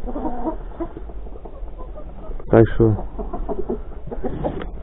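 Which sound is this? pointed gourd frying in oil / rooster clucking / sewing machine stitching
rooster clucking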